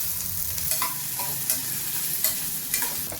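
Bitter gourd and onion pieces frying together in a pan: a steady close sizzle with a rhythmic series of stirring scrapes about every half second, and no talking.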